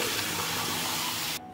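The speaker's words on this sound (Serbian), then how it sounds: "I procedit ću ih pod mlazom hladne vode da se ne bi zalepile" Cooked nokedli dumplings draining under a stream of cold tap water, a loud, broad, steady rushing hiss of water that cuts off abruptly near the end.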